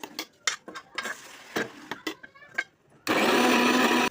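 A mixer grinder blends fried ridge gourd and tomatoes for chutney, starting as a loud, steady whirring roar after a few seconds of clattering and knocking at the jar.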